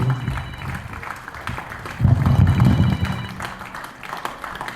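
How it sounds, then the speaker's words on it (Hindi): Crowd clapping in a hall at a church Christmas gathering in Rourkela, a burst of applause swelling midway then easing, with voices and room noise mixed in around it. "ताली मारते रहिए"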